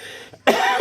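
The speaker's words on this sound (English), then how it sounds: "I have a cough." A single close, loud cough from a man broadcasting news from a balcony, a harsh burst after a brief near-silent pause, preceded by a faint throaty rasp.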